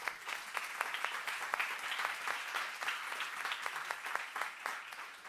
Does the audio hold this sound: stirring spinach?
no